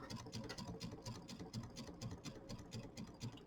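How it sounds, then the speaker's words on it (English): Sewing machine zigzag stitching quilt binding up into a corner, a rapid, even mechanical chatter of needle strokes running steadily and close. "I'm going to leave that pin in there, and I'm going to zigzag right up into the corner"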